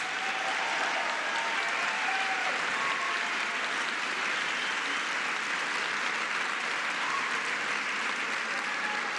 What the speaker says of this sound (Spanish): un aplauso muy fuerte a sus familias por todo lo que hacen.